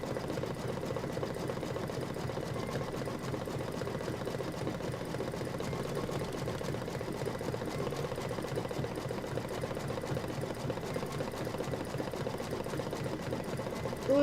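A sewing machine runs a satin stitch in one steady, fast, even mechanical whir that goes on without a break, with a brief change in sound at the very end.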